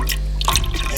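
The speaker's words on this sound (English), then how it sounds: "pouring a bottle of the chicken broth" Chicken broth pours from a bottle into a cooking pot, a loud splashing liquid stream that shifts in tone partway through, heard close and alone.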